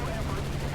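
Machine gun burst from a P-51D-20 Mustang fighter in the War Thunder flight game: a short, steady stream of rapid gunfire at a constant low level lasting under a second, with no pause in the firing.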